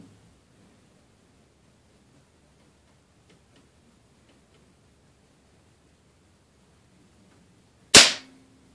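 A Daisy air gun fires a single .22 wadcutter pellet, one sharp, loud crack breaking a long stretch of near silence just before the end.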